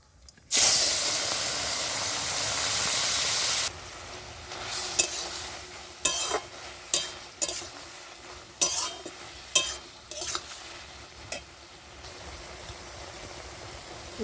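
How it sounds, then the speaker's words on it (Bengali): Tomatoes drop into hot mustard oil already spiced with five-spice tempering and dried red chilli, giving a loud burst of hissing sizzle that settles into quieter frying with repeated sharp clinks and scrapes of stirring. "এবার আমি টমেটোগুলো দিয়ে দিচ্ছি।"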